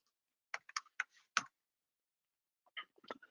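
Short bursts of keystrokes sound on a computer keyboard while logging in, a quick cluster of close clicks, a pause, then another brief run of typing.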